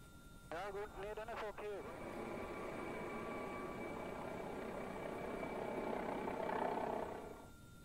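A police helicopter flies over a restricted zone searching for people, its steady rotor and engine drone continuous throughout, briefly overlapped by a voice near the start.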